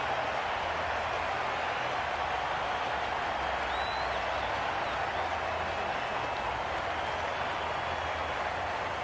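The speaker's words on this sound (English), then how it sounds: "The crowd are really getting quite raucous." A raucous stadium crowd in the cricket video game Cricket 22 keeps up a steady, dense roar of cheering and noise, loud and unbroken throughout with no clear pauses.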